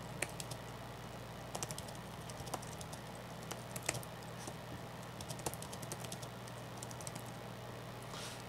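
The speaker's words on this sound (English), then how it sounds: "So, you can type as normal, of course." Steady tapping on the keyboard of a Galaxy Tab S 10.5 tablet, a run of light, quick keystrokes in bursts over a constant low hum, close and fairly quiet, with no voice.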